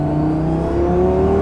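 A Lamborghini accelerates hard and starts losing traction, its engine note climbing steadily in a loud, close, continuous whine with no talk over it.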